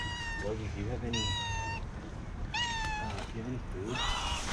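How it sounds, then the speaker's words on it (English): Several close, drawn-out meows from a stray one-eyed cat in the streets of Jerusalem near the Wailing Wall, coming in three or four distinct cries over steady outdoor ambience, with lower voices murmuring underneath. "Oh, I wish I could give this cat some food."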